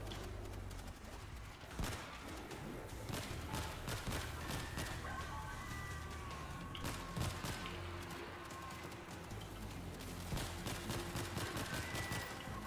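Dense, continuous gunfire in the World War Z game, layered bursts and impacts running throughout at steady loudness with busy combat noise behind.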